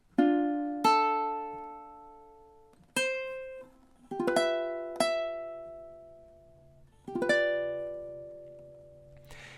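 Ukulele plucking the melody of a song, measures 31 and 32, a handful of bright single notes and small chords spaced slowly apart, each ringing and decaying, soft and close with no voice.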